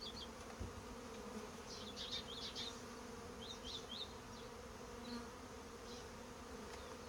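Honeybees buzz around an open hive while it is being split, a dense, continuous drone with brief higher whines from individual bees flying close by, and no talking.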